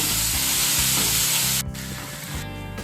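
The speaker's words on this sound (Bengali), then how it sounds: "আদা রসুনটাকে ভেজে নেব একটু সময় নিয়ে" Ginger garlic paste frying with whole spices in a pan for Mughlai chicken, giving a loud, continuous close sizzle with a few stirring scrapes, and no talk.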